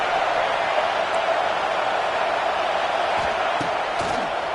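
Dense, steady roar of a stadium crowd in the College Football 26 video game, a loud continuous wash with faint thumps and swells near the end.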